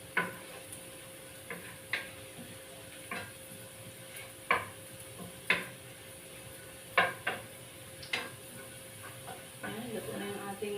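Garlic sautéing in a pan for chicken pochero, a steady sizzling hiss broken by regular clinks and scrapes of stirring, with a voice talking over it.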